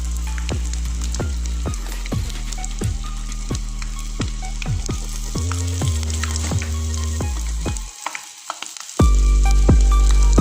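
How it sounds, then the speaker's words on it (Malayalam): Scored egg frying in a pan, a steady sizzle with stirring running under louder stepwise background music for the whole stretch. "മുട്ട വരഞ്ഞ് പൊരിച്ചത്"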